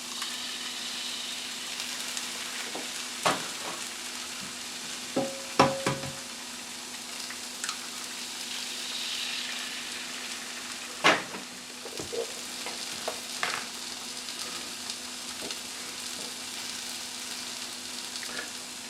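Eggs fry in a pan on a stove just above medium heat for a country breakfast, a steady soft sizzle with occasional clicks and taps of a spatula, close and even throughout.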